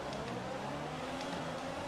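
An F1 race car in the F1 2020 game starts the Singapore Grand Prix with a continuous high engine drone and whine at steady volume, and no one speaks.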